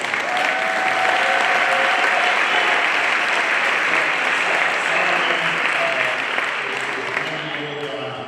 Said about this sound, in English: I give him a round of applause